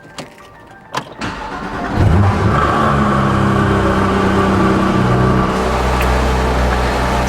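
A 2018 Porsche 911 GT3 starts up with a sharp turn of the key, a few clicks and a crank, then the engine catches and holds a loud, steady high idle with a slight rev, close by.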